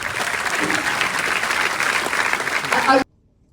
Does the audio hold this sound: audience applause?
yes